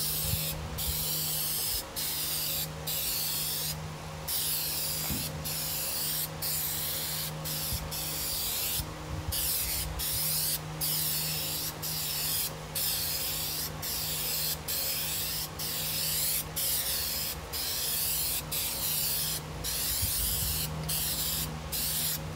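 Plasti Dip is sprayed from an aerosol can onto a Buell XB9SX motorcycle tank cover, a loud close hiss in repeated bursts with brief pauses between them.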